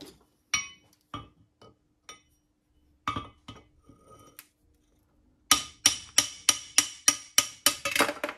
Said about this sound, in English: And then it's very easy to hammer out.